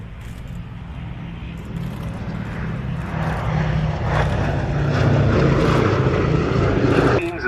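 A B-24 Liberator propeller aircraft at an air show gives a deep, throbbing engine drone that grows gradually louder and fuller as it approaches, ending in a sharp cutoff.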